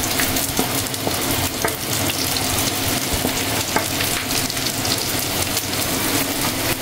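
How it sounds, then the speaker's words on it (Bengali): Chopped onion and garlic sizzle and crackle steadily in hot mustard oil in a pan, a loud, close, continuous frying hiss with occasional stirring, and no voices. "এবার দিয়ে দিচ্ছি পেঁয়াজ কুচি ও রসুন কুচি"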